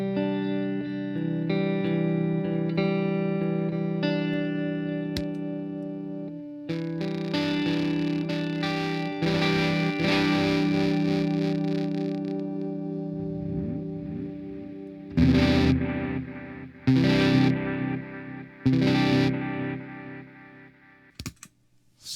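A cheap TEMU guitar pedal board runs a delay tinged with distortion, sustaining a buzzy, chorused electric guitar tone that repeats and echoes, with louder strummed bursts near the end, alone and without talk.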